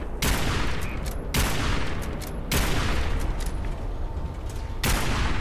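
Heavy cannon fire in the Fallout 4 video game during a robot pirate ship battle: five loud, booming broadside blasts roughly a second apart, each followed by a dense rumbling roar that fills the gaps.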